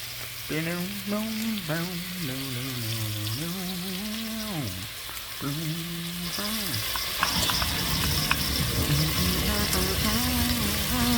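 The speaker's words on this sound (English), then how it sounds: "Look at that meat sizzling," Meat sears in a hot pan with a continuous crackling sizzle, while a voice hums or sings over the first half before the frying carries on alone.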